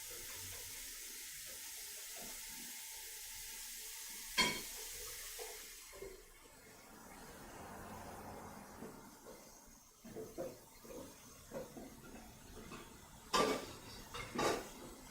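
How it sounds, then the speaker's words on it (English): Tap water runs into a sink while hands are washed late at night in a home kitchen, a faint steady splashing with scattered clicks and knocks. "Let me start washing my hands."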